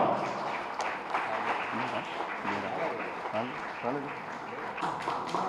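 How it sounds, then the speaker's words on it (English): The audience at a humanitarian awards ceremony gives a round of applause: continuous, moderately loud clapping that runs throughout under a speaking voice. "Give a good round of applause."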